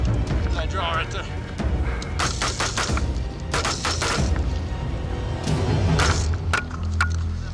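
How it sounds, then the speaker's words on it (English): Gunfire on a mountain spur with bullets smacking into a giant boulder: repeated loud cracks and bursts in irregular clusters over a steady rumble, with voices in the background. "Bullets are impacting this giant boulder"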